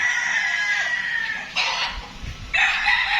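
A Butcher bloodline gamecock crows loudly and close, several drawn-out calls in a row with brief gaps between them.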